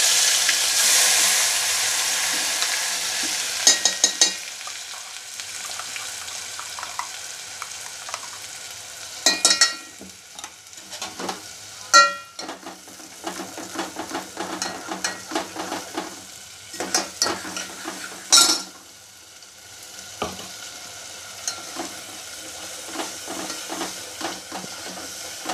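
Homemade black masala roasts in oil in a pan for misal, giving a loud hissing sizzle at the start that settles into a steady fry, broken by repeated sharp scrapes and knocks of stirring.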